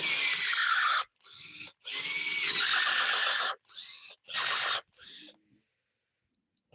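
A power drill bit grinds through a roller skate boot and catches on a screw, giving harsh, loud rasping bursts separated by short pauses before cutting to silence.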